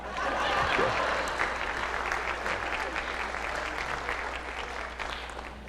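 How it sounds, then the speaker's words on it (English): A large audience in an auditorium claps steadily for several seconds at a university fall semester opening session, a dense continuous wash of applause with a few scattered voices and light laughter underneath. "Face the back of the auditorium and clap for the people that gave you a job."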